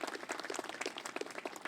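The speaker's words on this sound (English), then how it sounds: "Let's give them a big round of applause." Steady, fairly faint applause from an audience honoring city staff at an outdoor historical marker unveiling in Fayetteville, Arkansas, with dense overlapping claps throughout and no talking.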